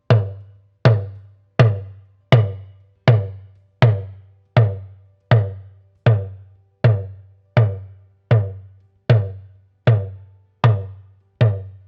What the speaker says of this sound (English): For the re tone, you have a light compression on the tension chord.